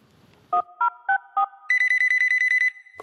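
A phone call to a child helpline: four separate clean electronic tones, then a fast run of loud, evenly spaced ringing pulses, heard alone without any talking.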